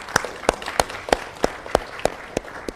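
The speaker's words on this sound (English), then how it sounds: "Please a round of applause for him" A few audience members clap for a speaker at a peace and security forum in Ghana, with about ten separate claps spaced unevenly and sounding sparse and close.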